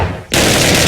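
Gunfire in the video game Counter-Strike 1.6: after a brief quiet moment, a loud, dense automatic burst erupts and holds to the end.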